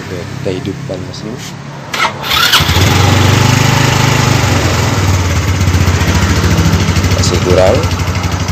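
A car engine cranks briefly and catches, then settles into a loud, steady idle close by, with the radiator being drained and refilled.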